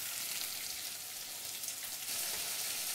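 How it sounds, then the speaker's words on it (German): Bell peppers and onions sauté in a pan for a green Thai curry, giving a steady, dense sizzle and crackle with no break and no voices. "Jetzt habe ich die Paprika und die Zwiebeln ein bisschen dünsten lassen."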